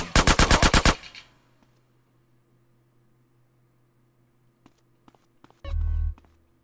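Automatic gunfire in GTA San Andreas Definitive Edition rips out as a rapid burst of about eight loud shots, followed by quieter scattered clicks and a short harsh noise burst near the end.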